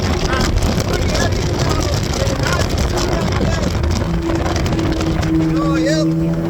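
An old Ultranautics Jetstar jet boat engine idles with a steady, dense rumble and a constant wash of wind and water noise close to the microphone.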